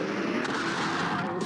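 Elbow Rocket attack in the video game Pachimon Dainessen Final Wars, a loud continuous roaring blast with dense rumbling crackle throughout the short stretch.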